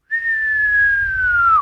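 A voice imitates the whistle of a falling bomb with one clear, sustained tone that slowly glides downward for over a second and drops off sharply at the end, close and loud.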